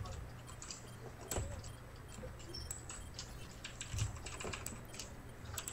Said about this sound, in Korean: 이거 키보드 소리 너무 많이 들린다.